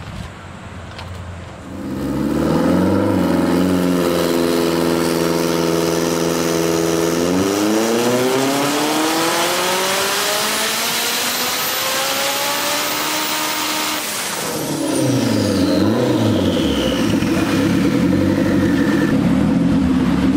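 A K20 engine in a Toyota MR2 revs hard on a dyno, climbing steadily in pitch for several seconds, holding near the top, then dropping back and idling roughly.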